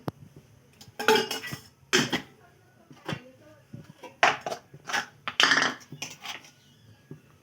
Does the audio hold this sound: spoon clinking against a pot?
yes